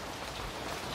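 Steady rain falls outdoors onto an open-air cooking spot in Jamaica, a dense, even hiss of drops on surfaces with no voices.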